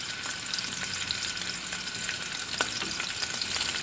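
Sausages fry in olive oil in a frying pan with a steady, dense sizzle, and a few soft stirring clicks rise near the end.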